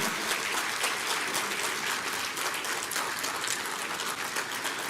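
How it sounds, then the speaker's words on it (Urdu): Audience applause at an award ceremony in Aurangabad, a dense, steady clapping from a large crowd that stays loud and continuous throughout with no voices over it. "یہ بولنا پڑے گا کہ آپ کو کہ تالیاں بجائیں."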